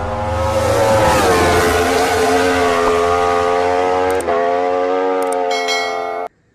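A tuned four-stroke motocross bike engine with fuel injection revs loudly and close, the pitch climbing and holding in sustained high revs before cutting off abruptly near the end.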